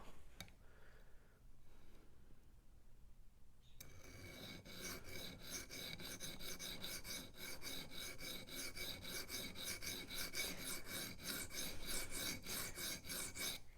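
A Rough Ryder Half Hawk knife being sharpened with 3D-printed angle guides: after a quiet start, steady rhythmic rasping strokes of blade against stone repeat rapidly and evenly, close and moderately loud.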